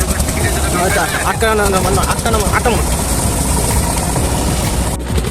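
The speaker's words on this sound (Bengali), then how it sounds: "আর সামনে আমাদের আরেকটা বোট চলে যাচ্ছে।" A boat engine runs steadily on a river trip in Sylhet heading toward Sada Pathor, a broad continuous drone filling the scene while people chat over it and birds chirp faintly.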